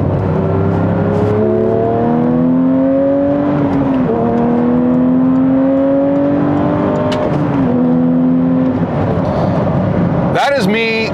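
Porsche 992 GT3 engine revving hard through the gears from inside the car, each pull climbing in pitch before dropping at shifts around six thousand rpm, loud and close, with a brief sharp burst near the end.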